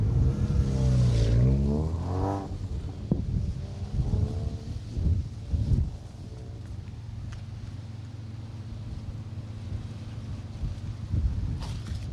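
A rally car on an asphalt stage in the East Riding Stages of the Protyre Motorsport UK Asphalt Rally Championship accelerates into the stage finish, its engine rising loudly nearby and then easing away into wind and distant engine noise.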